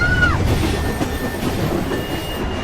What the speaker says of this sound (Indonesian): Namun naas bagi Saro, ia terbangun saat gerbong kereta api itu berjalan.